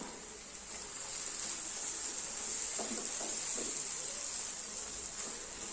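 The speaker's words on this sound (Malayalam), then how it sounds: "ഒരു രണ്ട് മൂന്ന് മിനിറ്റ് നമുക്ക് ഈ ഒരു നെയ്യിൽ ഇതൊന്ന് വഴറ്റിയെടുക്കാം" Grated coconut sautéing in ghee in a pan, giving a steady, even sizzle and hiss throughout with a few faint stirring scrapes near the middle.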